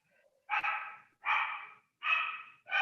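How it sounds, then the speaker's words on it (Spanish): A dog barks four times in a regular rhythm, each bark a sharp, clear burst separated by short silences, moderately loud and close, with no talking. "o encerrarlo al perro en una bolsa ahí?"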